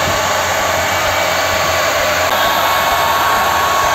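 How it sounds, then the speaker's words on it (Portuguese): A hair dryer blows steadily and loudly throughout, used to heat and dry out moisture from a plastic door alarm part under repair; a continuous broadband rush with no talk. "tem que tomar muito cuidado com o secador de cabelo"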